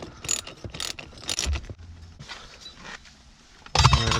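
Socket ratchet clicking while loosening a bracket bolt inside the center console of a BMW E46, with quick bursts of ratcheting separated by short pauses and a louder, closer flurry at the end.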